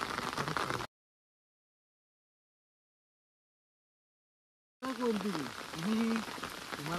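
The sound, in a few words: rain starting again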